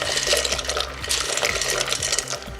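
Dry pasta tumbles into a pot of salted water at a rolling boil, a steady watery bubbling and splashing with soft clinks against the pot throughout, close and fairly loud.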